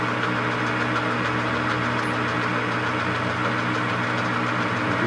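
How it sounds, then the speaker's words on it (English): A metal lathe runs steadily in a workshop, a constant humming motor drone with a faint mechanical rattle, no voices. "So let's kick the lathe on."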